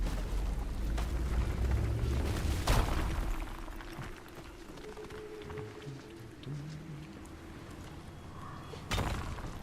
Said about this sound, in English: Let's do another cheeky wee rock explosion.